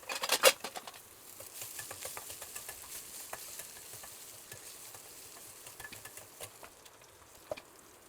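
Paneer and rice fry in a hot pan at home, a soft continuous sizzle with scattered stirring scrapes and ticks, a sharper clatter near the start, fairly close and quiet.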